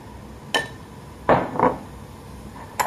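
A spoon stirs sugar and sesame oil dressing in a bowl, making a few sharp, separate clinks and scrapes against the dish with short pauses between them.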